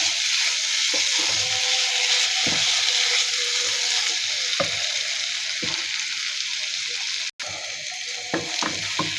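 Small shrimp with a generous handful of chopped coriander being stirred in a frying pan, a constant close sizzle broken by occasional scraping knocks of the spoon against the pan, with no talking.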